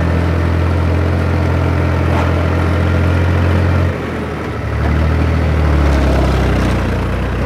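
A Fiat 480 tractor engine runs steadily with a deep, low idle that dips briefly near the middle and then returns, close and loud throughout, with no talking.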